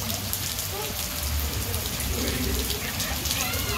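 Rain falls steadily on a residential neighborhood while water runs off a roof, a dense, even hiss of drops and splashing close by, with faint voices in the background.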